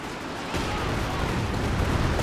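Artillery barrage in Company of Heroes 2 striking riflemen, a dense rumbling roar of explosions that swells after a brief lull and holds loud and continuous.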